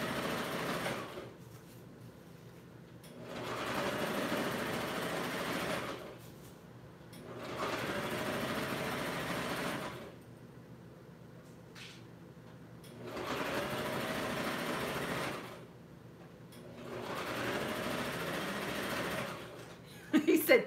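A sewing machine runs in four separate bursts of steady whirring, with quiet pauses between each run.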